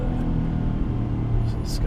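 Low, steady engine rumble from a 2016 Jaguar XF 35t R-Sport RWD with a supercharged engine, heard from inside the cabin while driving, continuous throughout.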